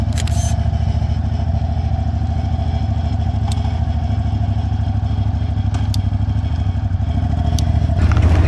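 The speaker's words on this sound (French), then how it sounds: "Mais c'est un scooter." A small scooter engine idles and putters steadily nearby, with a rough continuous drone and a few light clicks, no voices.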